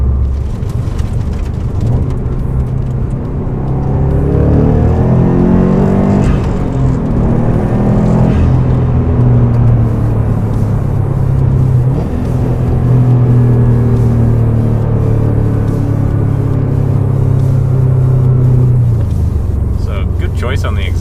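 A 2006 Stage 2 Subaru STI with a COBB turboback exhaust drives along, heard from inside the cabin as a steady, deep exhaust drone that swells and falls with the revs.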